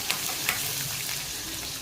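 A tempering of dried chilli, garlic, ginger, onion and green chilli fries for a spinach yogurt pachadi, making a steady, dense sizzle broken by a couple of brief clicks.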